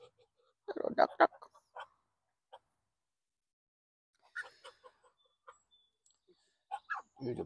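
Small ducklings and adult ducks in a home garden give a few scattered clucking, quacking calls, with short bursts near the start and end and quiet gaps between.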